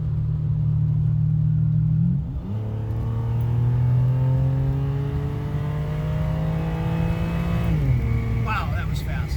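Engine of a Ferrari climbing through the revs toward 10,000 RPM as the car accelerates hard, with a loud sustained rising drone, a gear-change dip near the midpoint, then another climb with wind noise; a voice speaks faintly underneath.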